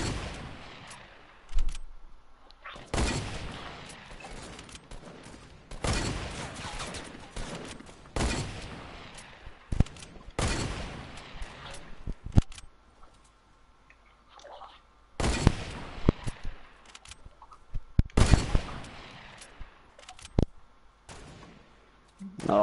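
Bursts of gunfire in the Fortnite video game, several loud volleys and rapid shot clusters separated by brief pauses, with quieter stretches between the exchanges.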